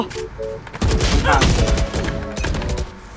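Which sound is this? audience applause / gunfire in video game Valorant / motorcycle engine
gunfire in video game Valorant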